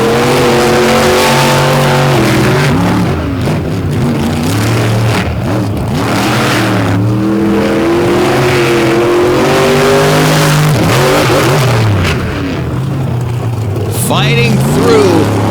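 Race cars competing on a dirt track at a championship event in Gray, Tennessee, loud engines revving and shifting pitch as they pass in waves, with a commentator talking over the roar.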